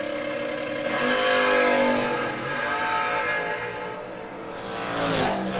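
A Camaro and a Firebird drag racing, engines roaring loudly with a sustained high rev that swells and eases, heard from nearby over an event crowd setting.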